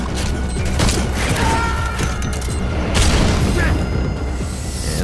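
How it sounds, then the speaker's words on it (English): Stun grenade detonates with a heavy boom in the online shooter Metal Gear Online on PS4, set within a dense, continuous wash of loud battle noise and crackling gunfire. "And we're hit by a stun grenade."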